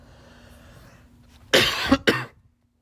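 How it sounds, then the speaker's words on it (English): A person coughs twice in quick succession, close and sharp, after a moment of near quiet. "and I'm coughing."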